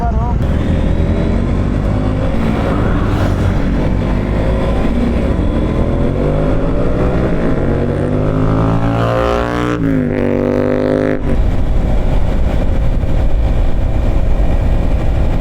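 A KTM RC sport motorcycle runs continuously through the ride, its engine note loud and rising and falling with throttle changes, with a voice talking over it and a brief gear-change dip near the middle.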